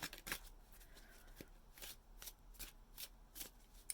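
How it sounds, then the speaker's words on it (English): A deck of small miniature cards is shuffled by hand, giving a series of quick, crisp riffling bursts in an even rhythm, close and fairly soft, with no talking. "I want you guys to see that I am shuffling."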